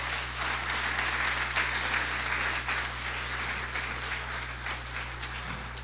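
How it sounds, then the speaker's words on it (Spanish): Congregation applause during a church service: a steady, dense wash of clapping from many hands that holds evenly for about six seconds, moderately distant with a low background hum beneath it. "Denle un aplauso al Señor."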